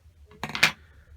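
Sharp scissors trim the thread on a Corixa fly, giving a quick pair of close, crisp metallic snips under a second long, in a quiet room.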